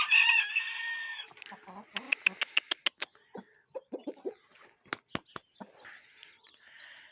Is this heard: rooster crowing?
yes